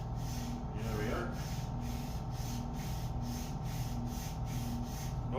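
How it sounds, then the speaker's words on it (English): Hand sanding of a cabinet door panel with 180-grit sandpaper, a soft, steady rasping scrape repeating in even back-and-forth strokes, close and fairly quiet throughout. "when I'm sanding this, I want to make sure that this paper does not touch that center panel"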